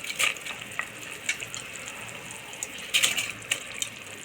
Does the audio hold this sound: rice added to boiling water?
yes